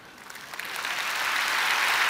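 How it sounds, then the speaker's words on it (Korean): Applause from a church audience builds steadily into a dense, loud wash of clapping that carries on without pause to the end. "니들을 향한 박수다."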